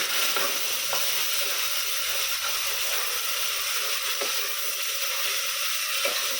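Two tomatoes, ground and added to browned onions with salt, fry in a pan with a continuous hissing sizzle and light scraping stirs, close and even throughout, with nobody speaking.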